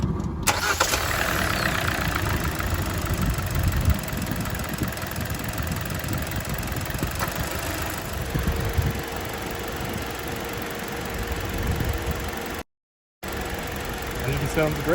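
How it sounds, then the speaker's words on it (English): A 2014–2018 Kia Forte engine, just fitted with new spark plugs, cranks and catches, then settles into a steady, slightly rough idle that runs on loudly and close, with a brief dropout near the end. "Now let's fire up the car and see how it sounds."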